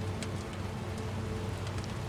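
Steady, soft rainfall in the video game Death Stranding 2, with scattered droplet taps on surfaces, a continuous patter heard alone without any voices.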